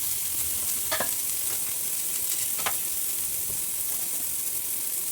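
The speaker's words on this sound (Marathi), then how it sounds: "त्याच्यावर हे पाव असे भाजून घ्यायचे" Buttered pav bread toasts in a pan with a steady, even sizzle and hiss, broken by a couple of brief scraping touches, close and continuous with no voices.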